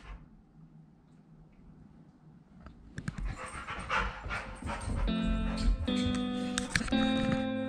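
A dog panting and whimpering indoors, faint and breathy at first, then growing busier and louder, with tonal whines rising over a steady background hum.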